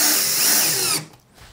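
A power drill drives screws into a workpiece held against a guide rail at a bandsaw, a steady whining run for about a second that stops abruptly, leaving a quiet workshop.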